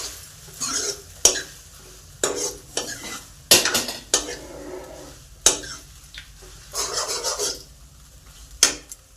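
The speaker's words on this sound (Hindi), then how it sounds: "मिला लेना है सब मसाला में" Chow mein being stirred and tossed with spices in a pan, with repeated scraping strokes of a utensil against the metal in uneven bursts over a soft sizzle.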